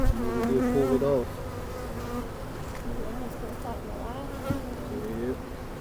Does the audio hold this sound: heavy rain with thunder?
no